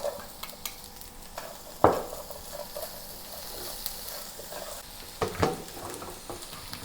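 Garlic and carrot stir-fry for a chicken and cabbage dish, a soft sizzle with a few sharp clicks and scrapes of a utensil against the pan, fairly quiet overall.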